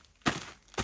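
Two dull, gritty footsteps on loose dirt, about half a second apart, close and fairly soft, with nothing else around them.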